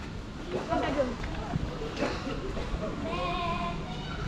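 A young goat bleats in a series of wavering cries, close by, with people talking and moving around in the background.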